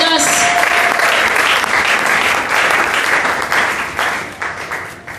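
A church congregation bursts into loud, sustained applause and cheering for the Lord, a dense wash of clapping that gradually thins and fades toward the end.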